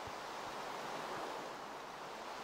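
Steady broadband water wash fills Minecraft survival gameplay, a continuous even rush like surf or flowing water with no breaks and no talking.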